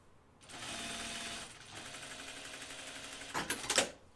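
A sewing machine runs top stitching on a Kelly Anorak, a steady rapid mechanical whir lasting about a second, then a lighter continuous run, ending in a few louder sharp clacks close by.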